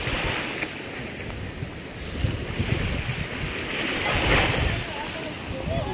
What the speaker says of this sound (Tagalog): Sobrang laki ng mga alon dito.